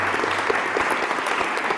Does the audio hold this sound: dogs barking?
no